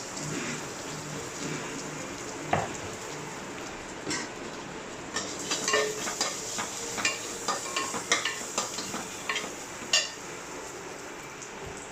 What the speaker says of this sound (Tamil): இப்போ அந்த எண்ணெயோடவே சேர்த்து எல்லாத்தையும் வதக்கணும்